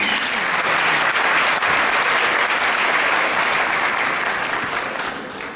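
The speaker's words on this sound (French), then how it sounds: "je vous demande de les applaudir vivement" An audience at a ceremony breaks into loud, sustained applause, a dense wash of clapping that holds steady for several seconds before tapering off toward the end.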